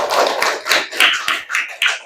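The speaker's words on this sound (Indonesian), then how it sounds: "Tepuk tangan dulu." A classroom of pupils clapping their hands together in a quick burst of rhythmic claps, about seven or eight beats, close and fairly loud, with no talking over it.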